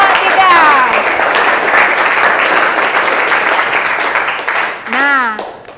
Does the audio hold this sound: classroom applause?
yes